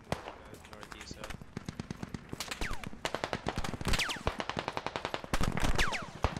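DShK Dishka heavy machine gun in the game Squad, rattling off rapid sharp bursts of heavy rounds with brief pauses between strings, loud and fairly close, with gunfire layered over a continuous noisy battlefield background.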